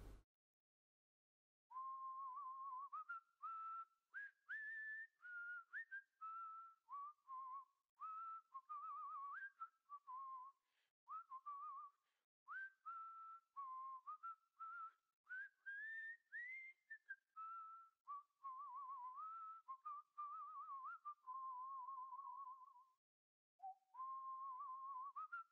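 A character whistles a long, wandering tune in the video game Monkey Island 2 Special Edition: LeChuck's Revenge, a steady stream of clear melodic phrases with brief breaks, alone and continuous for over twenty seconds.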